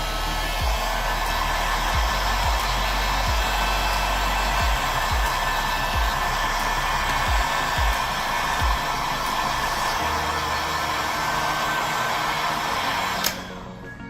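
A hair dryer with its heat switched fully off blows a steady, loud stream of air to dry out the inside of an iPhone 12 or 13 during a battery replacement, running continuously until it cuts off near the end.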